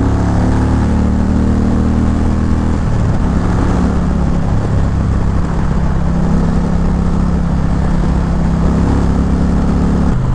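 A 2023 Indian Challenger motorcycle's stock engine with dual exhaust runs loud and close, a steady deep rumble with a slight shift in pitch partway through as it pulls along.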